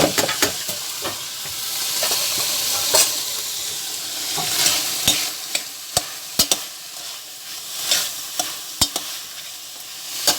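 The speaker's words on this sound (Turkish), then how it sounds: "Etimiz güzelce kızardı arkadaşlar. Soğanımızı ekliyoruz." Meat and onions sizzle and crackle as they fry in a pan for gözleme and börek, with a steady hiss broken by sharp pops and clinks of stirring, close and loud, with no talking.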